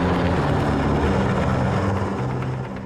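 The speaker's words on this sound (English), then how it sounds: "The helicopter and lifeboat then come under formation" A rescue helicopter flies in formation over a lifeboat at sea, giving a loud, steady rotor and engine drone with low rumbling throb that fills the whole stretch and eases slightly toward the end.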